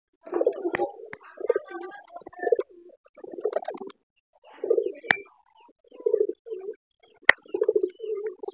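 Domestic pigeons coo in repeated soft, low throaty bursts close by, with a few sharp clicks between calls and quiet pauses.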